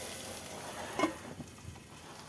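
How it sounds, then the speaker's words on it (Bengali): Potato, carrot and onion cooking in a pan give a low, even sizzle, with a couple of quick spoon scrapes from stirring about midway and no talking. "নেড়ে দেবো, কারণ বলা যায় না লেগে যেতে পারে, তার জন্য আমি একটু নাড়িয়ে দেবো"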